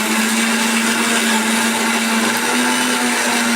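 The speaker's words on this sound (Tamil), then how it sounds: "இப்போ வந்து மிக்சியில் போட்டு அரைக்க போகிறோம்." A mixer grinder whirs at high speed with a steady, loud motor drone and gritty grinding, cutting off abruptly at the end.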